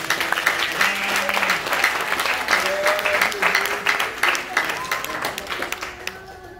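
A church congregation applauds during a pastor's French sermon, a dense burst of clapping with some voices and shouts mixed in, steady throughout and tapering slightly at the end.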